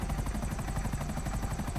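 Akula helicopter flying fast in Grand Theft Auto V, with a dense, continuous rotor thrum and rapid rhythmic blade chop at steady loudness, no talk over it.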